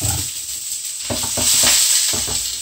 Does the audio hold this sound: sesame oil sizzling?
yes